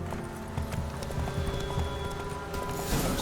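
A horse gallops in The Witcher 3: Wild Hunt, with rapid rhythmic hoofbeats close by and steady over a faint game soundscape.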